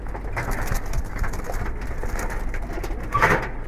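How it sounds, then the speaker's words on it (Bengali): Giribaj pigeons at a village loft in Narayanganj coo softly and continuously up close, with a slightly louder throaty coo near the end over rustling background noise. "খুব সুন্দর একটা কবুতর"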